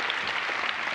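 A conference audience at SIGGRAPH Real-Time Live claps for a Mario shader demo, dense continuous applause from a large crowd filling the whole short moment.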